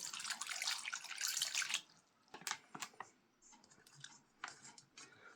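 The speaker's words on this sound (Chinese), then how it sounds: "先用水把鸡蛋表面淋湿" Tap water runs over eggs in a bowl, a close, bright gush for almost two seconds, then quieter splashes and drips as the eggs are turned, with no talking.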